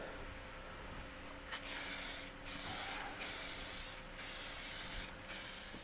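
Spray gun applying a coat of crackle glaze in repeated bursts of broad hiss, each lasting about a second with short gaps between, steady and fairly close.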